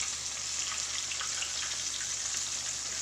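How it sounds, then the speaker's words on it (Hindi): Chicken frying in oil over a low flame, a steady, even sizzle and crackle that holds at one level throughout, close and alone with no talking. "ये स्लो फ्लेम में ही फ्राई होगा।"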